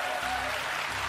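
An audience claps in a steady, dense burst of applause that fills the whole short moment, with no break.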